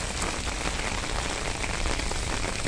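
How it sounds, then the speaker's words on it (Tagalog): Steady rain falls outdoors, a dense and even patter on surfaces all around that continues without a break, with no voices. "Maulan."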